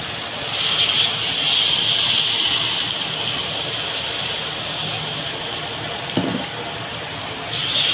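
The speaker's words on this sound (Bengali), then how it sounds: "আমি এবার জলটা ঢেলে দেবো।" Water is poured into a pot of browned curry with potato and eggplant, a continuous rushing splash lasting several seconds, with a brief clunk near the end and the flow picking up again at the close.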